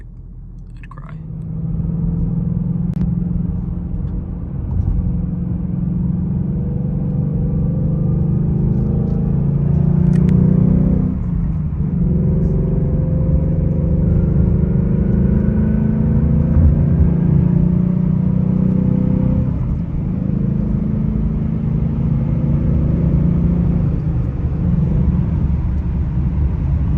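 A 2022 Ford Mustang GT driving, a deep steady engine rumble and road drone from inside the cabin, swelling slightly with throttle and holding level for a long stretch.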